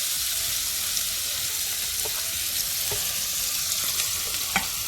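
Onions going into a pan of hot oil and margarine sizzle steadily, a close, even frying hiss with a few faint stirring clicks and no talk.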